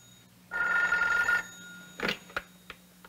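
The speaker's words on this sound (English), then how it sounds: "A phone seemed to be ringing, but there wasn't any phone." Old telephone bell ringing in a single close burst of about a second, followed by a few clicks and knocks like a receiver being picked up, in a 1965 spy-themed infomercial.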